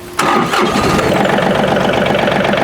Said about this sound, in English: So now with the John Deere 2032R, let's see how loud it is.